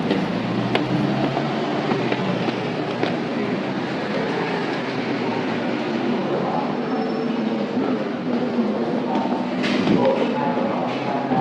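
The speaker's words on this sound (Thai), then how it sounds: "ถึงแล้วรถไฟใต้ดินสะน้ำชัย มุ่งหน้าไปสุขุมวิท" A subway train runs through a Bangkok underground line bound for Sukhumvit, with steady loud rumbling wheel noise and rail clatter filling the whole stretch, rising slightly near the end as it arrives.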